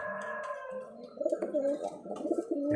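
Pigeons coo softly inside their coop at the start of the winter egg-laying season. The low, wavering calls overlap one another, close by and fairly quiet.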